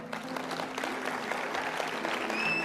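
A church congregation applauds steadily, a dense wash of clapping throughout with a faint murmur of voices underneath.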